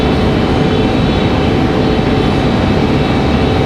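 A Frontier Airlines jet moves at Raleigh-Durham airport, giving a steady, loud engine rumble that holds without letup.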